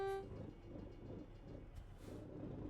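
A train rumbles past in American Truck Simulator. A brief horn toot opens it, then a low, steady rolling rumble with a soft hiss follows, fairly quiet and with no voices.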